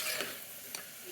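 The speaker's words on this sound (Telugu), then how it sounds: "కానీ నేను ఫ్రై చేసి ఇలా 2 టమాటాలు వేస్తున్నాను" Two tomatoes drop into ivy gourd frying in a pan, giving a soft, steady sizzle with two brief scraping stirs, close and fairly quiet, no voices.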